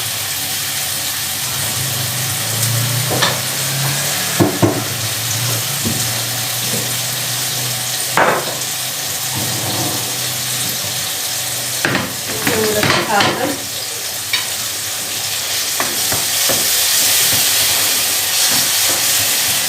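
Onion and tomato paste frying in a pan give a steady, loud sizzle and hiss throughout, with scattered scraping and stirring clatter mixed in.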